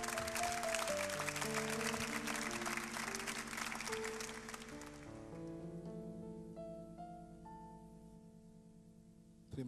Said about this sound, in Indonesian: Tepuk tangan sekali lagi buat Tuhan.